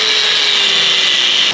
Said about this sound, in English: we'll have to get the old angle grinder out